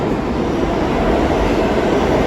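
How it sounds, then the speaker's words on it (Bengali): A loud, continuous rumbling roar of a train running close by, steady throughout with no speech. "ট্রেন চলে আসছে নাকি"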